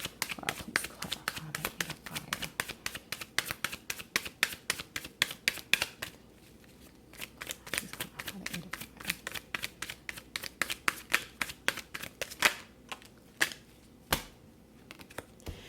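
Tarot cards are shuffled by hand in repeated bursts of crisp riffling and tapping, with brief pauses between rounds, close and fairly quiet.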